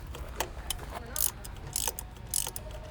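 A ratchet turns a spark plug into an aluminum cylinder head on a 2000 Toyota Celica GTS, making several short clicking bursts spaced irregularly, close and crisp, over faint background noise.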